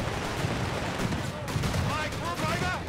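MG-34 machine gun firing in the video game Company of Heroes 3, a rapid rattle of close shots mixed with distant battlefield artillery, under shouted voices from the crew.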